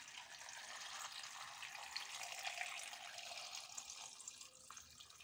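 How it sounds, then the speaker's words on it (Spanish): Water pouring steadily into a cooking pot of Asturian beans with chorizo and ham, a soft continuous splashing rush, close but quiet. "añadimos agua para cubrir"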